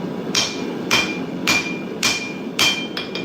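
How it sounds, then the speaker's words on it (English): Five evenly spaced ringing hammer blows strike a Nordic khopesh blade on the anvil horn, each a bright metallic clang close by, with a quick double tap at the end. "we also need to make sure we hammer that down"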